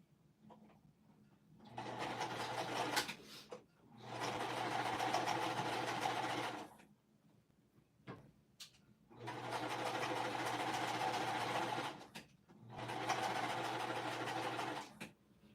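A sewing machine runs in four steady bursts of a few seconds each, its motor whirring and needle chattering, separated by quiet pauses with light handling noises.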